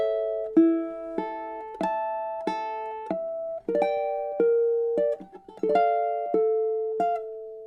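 Solo ukulele continues Chopin's Nocturne Op. 9 No. 2 with a slow run of plucked single notes and ringing chords, each decaying before the next, intimate and close with no one speaking.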